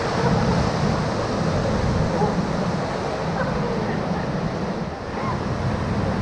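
Whitewater rapids on the Middle Ocoee River crash and splash continuously during a rafting run, a dense roaring wash that stays loud throughout with faint voices mixed in.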